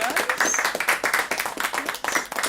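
A comedy show audience claps and applauds for a comedian, a steady patter of many hands close by, lasting a couple of seconds.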